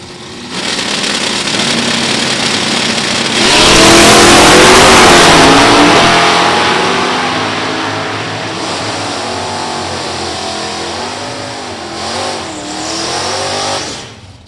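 A 1991 Firebird Trans Am with an LS1 and a 4-speed launches at a drag strip, its engine roaring loud and close, then pulling away through rising and falling revs with gear changes as it fades.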